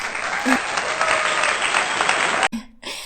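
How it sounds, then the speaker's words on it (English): A crowd bursts into dense applause for about two and a half seconds, loud and steady, then cuts off abruptly, leaving a few faint scattered claps. "give yourself a round of applause"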